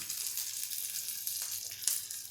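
Green gram kebabs sizzle steadily in a hot pan, a soft continuous hiss with a couple of faint scrapes as a spoon turns them over.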